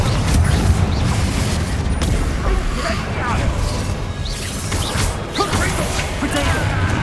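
Confringo blasting spells in Hogwarts Legacy crack and burst amid game combat, several sharp impacts and whooshes over a rumbling bed, with a voice calling out alongside.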